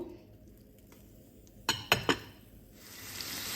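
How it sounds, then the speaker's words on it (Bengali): Boiled chickpeas stirred in a pan with spices and green chillies: a quiet background hiss broken by three close metallic clanks of the spoon against the pan, then a rising sizzle-like hiss. "ছোলা দিয়ে দিলাম এবার এটাকে ভালোভাবে মিশিয়ে নিব"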